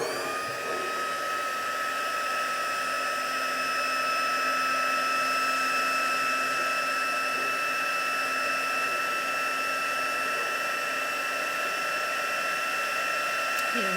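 A heat gun blows steadily as it melts embossing powder on a crafted card panel. A constant, close whirring hiss with a high whine runs unbroken throughout.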